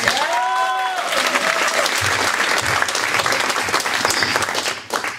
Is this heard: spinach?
no